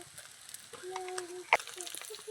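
Dried red chillies and chilli powder fry in hot oil for a crab curry cooked in a Sundarban village kitchen, giving a soft, steady sizzle with light stirring, while someone talks over it.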